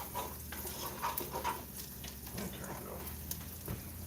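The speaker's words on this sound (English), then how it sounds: "I've got some onions that I'm trying to cook. Let them get a little brown." Onions frying in a pan: a steady, fairly close sizzle with crackling and small pops throughout, and faint talk and kitchen noise in the background.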